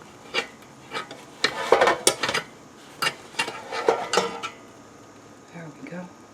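Metal air fryer basket lifted out of a fryer holding a baked veggie frittata, giving a string of sharp clanks, scrapes and rattles up close, with the clatter easing off at the end.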